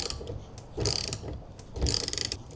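A ratchet wrench loosens a stubborn 13 mm wiper arm nut on a C5 Corvette cowl, two bursts of rapid metallic clicking a second apart, close and alone.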